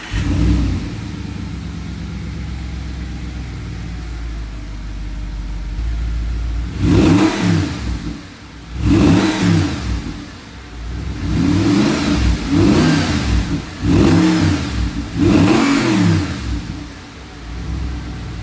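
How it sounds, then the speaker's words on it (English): An Audi R8 sports car engine idles with a low rumble, then revs sharply about five times in quick succession, each rev rising and falling, loud and close. "The engine definitely roars to life, but the exhaust just does not do it justice."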